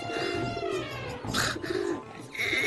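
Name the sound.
birds and pigeons calling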